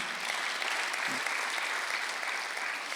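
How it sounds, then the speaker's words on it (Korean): A church congregation at a Sunday worship service gives a short, even burst of applause, the clapping soft and steady throughout. "박수하세요."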